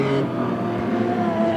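Modified sedan race cars roar together at Heartland Raceway, a steady dense engine drone holding loud and near throughout.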